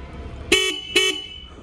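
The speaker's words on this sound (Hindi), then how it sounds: "हॉर्न चला के दिखा देता हूँ," Two short honks from a Honda CB350 motorcycle horn, a loud, bright pair of blasts close by with a brief gap between them.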